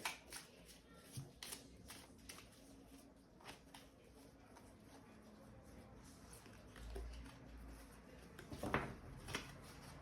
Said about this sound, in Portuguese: Então, deixa eu embaralhar aqui.